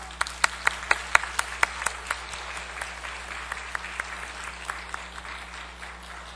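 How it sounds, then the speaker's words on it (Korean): A church congregation applauds to welcome a newborn baby and its parents at a Sunday service. Scattered hand claps ring out, strongest early, then thin and fade against a low room hum. "우리 앞으로 나오실 때 한번 큰 박수로 환영해 주시고 축복해 주시길 바랍니다."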